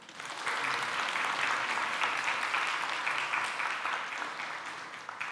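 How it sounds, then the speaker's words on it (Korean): A church congregation applauds on Father's Day, a dense, steady wash of many hands clapping at once that stays loud and full throughout before easing slightly at the end. "박수 한번 쳐주세요"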